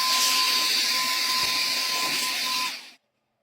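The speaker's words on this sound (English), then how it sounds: "This function can be used to blow away the dust in the corners and crevices" Mini car vacuum cleaner set to blow air, a loud steady whooshing hiss with a thin high motor whine, running for under three seconds before cutting off abruptly into silence.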